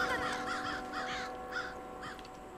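Crows cawing in the video game Far Cry 5, a run of harsh repeated caws from several birds, moderately loud and close, with no talk over them.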